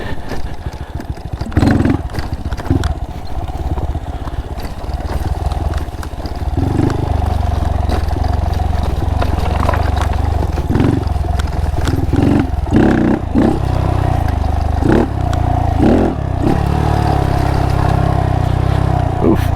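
A Honda Monkey motorcycle fitted with Ohlins forks rides a hard enduro trail and hops a log, its small engine droning steadily under repeated knocks and clatters from the bike and terrain, close up and with no speech.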